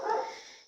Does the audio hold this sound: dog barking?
yes